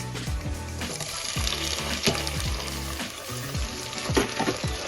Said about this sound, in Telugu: ఆనియన్స్ అయితే లైట్గా ఫ్రై అయినాయి కదా